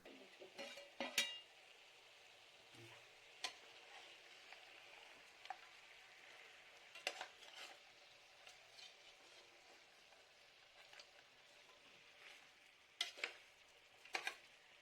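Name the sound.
chicken sautéing and being stirred in oil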